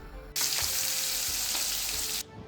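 Loud, steady sizzling of fish frying in hot oil, a dense crackling hiss that starts abruptly and runs continuously before cutting off.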